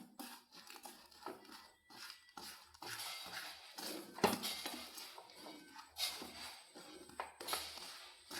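A spoon scraping and clinking against a pan while half a cup of sugar melts and changes colour for homemade popcorn, giving repeated close, fairly quiet metallic taps and scrapes with no talk.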